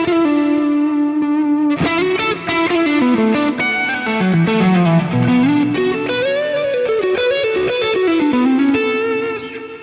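Electric guitar played through a Line 6 Helix amp-in-a-box style drive pedal rings out with a loud, distorted, sustained tone as a riff of chords and notes slides up and down.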